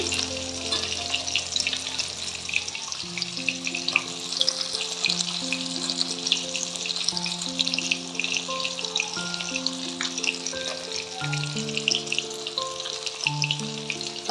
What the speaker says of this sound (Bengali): এই যে মাছগুলোকে ভাজা বসিয়ে দিয়েছি